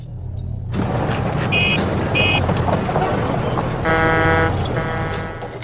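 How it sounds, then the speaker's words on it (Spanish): Recorded traffic noise played back as a comparison sound: a steady broadband roar of vehicles with a couple of short horn toots and a longer horn blast near the end. "Ahora el ruido de tráfico para compararlo."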